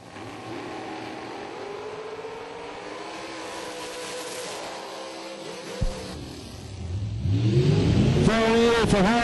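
A dragster making a drag racing run, a sustained engine drone rising in pitch as it accelerates, then a sharp crack and a louder, climbing roar of another engine near the end, with track announcer commentary over it.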